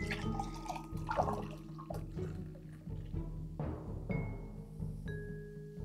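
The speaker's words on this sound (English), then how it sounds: "It's a nitro. Pour it hard." Nitro imperial peanut butter stout, a boozy 10.7% beer, poured hard into a glass, giving a close, steady liquid rush and fizzing cascade with a few dripping and clinking touches over about six seconds.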